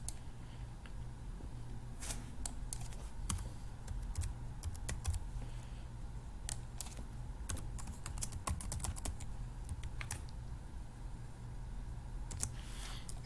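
Rapid, irregular clicking of keys as a user ID and password are typed on a computer keyboard, close and fairly quiet, with short pauses between bursts.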